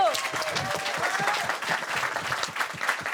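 Moderate applause from an audience at a French game-show style final, with scattered claps and murmuring voices mixed in for about three seconds.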